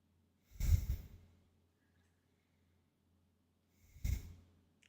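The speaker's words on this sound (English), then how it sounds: "Take in a couple breaths." Two slow, deep breaths come close to the mic, each a drawn-out airy exhale, with a quiet pause of a few seconds between them as a person practices diaphragmatic breathing.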